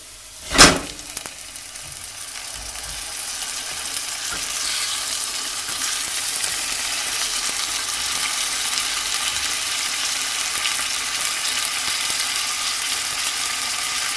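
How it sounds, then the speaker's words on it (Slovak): Frozen spinach hits a hot pan of potatoes with a brief thump, then a loud, steady hiss and crackle of sizzling that carries on evenly without any talk. "Približne po 4 minútach pridáme zmrazený špenát"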